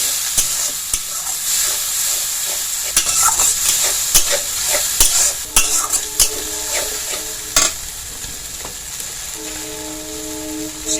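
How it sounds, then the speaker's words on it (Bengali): Spice paste with turmeric and salt fries in a pan with a little water for a Bengali pabda fish curry, a loud, steady sizzle broken by scraping stirs and clinks of the spoon, with no talking. "অল্প জল দিয়ে মশলাটাকে কষিয়ে নিব"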